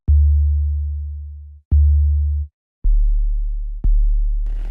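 808 bass synth patch played in Ana2, four deep booming notes with sharp clicky attacks, each tone falling in pitch and fading as it decays, separated by short gaps.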